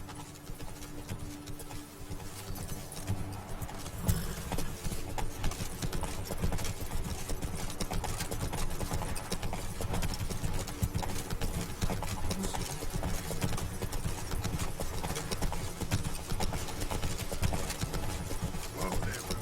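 A horse named Roach trots through a video game world, its hooves clip-clopping in a steady, continuous rhythm. The sound is loud and close, with game ambience beneath it.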